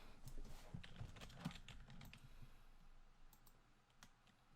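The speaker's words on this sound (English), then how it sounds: "This shitting keyboard" Close computer keyboard typing, quick clusters of sharp clicks at first that thin out into sparse single keystrokes, with no one talking.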